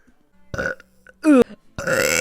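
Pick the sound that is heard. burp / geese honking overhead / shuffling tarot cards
burp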